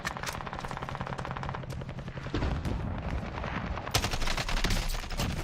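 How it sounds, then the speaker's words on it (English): AK rifle fire in a shooter game, sustained rapid automatic bursts, loud and close, with a heavier volley partway through and continuous rattling shots throughout. "the damage on that AK is good"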